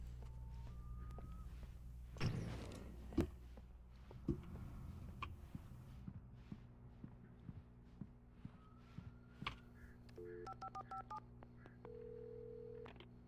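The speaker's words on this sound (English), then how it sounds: "I had to get inside the gas station to find a phone to call for help." Telephone keypad dialing in the video game Alan Wake Remastered, a gas station phone: a run of short, evenly spaced electronic tones in the second half, preceded by a few handset clicks and knocks over a steady low hum, with no talking.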